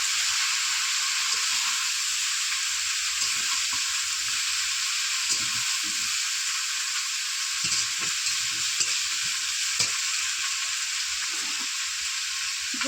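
Potatoes frying and being stirred in a wok over a wood-fired clay stove, a steady loud sizzle with scattered low scrapes and knocks from the stirring throughout.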